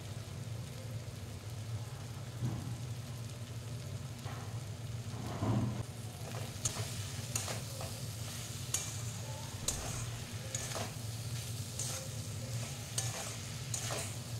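Fish curry with fried spring onions and salt stirred in a pan over a low, steady sizzle, with scraping strokes growing busier partway through and a faint engine-like hum beneath; nobody speaks.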